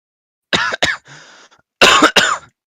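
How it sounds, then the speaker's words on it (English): Two sharp coughs, a brief pause with a faint breath, then two more hard coughs, close and loud. "have no idea why I'm coughing"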